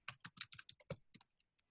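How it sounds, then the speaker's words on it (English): Keys on a computer keyboard are struck in a rapid uneven run of crisp, close clicks, slowing and thinning to a few isolated taps at the end, otherwise quiet. "I'm not very fast with typing"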